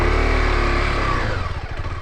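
Motorcycle engine idles loudly close by while the bike is being parked on a Saturday ride near a hidden waterfall in Dhading, a steady throbbing hum that drops and sputters as it winds down.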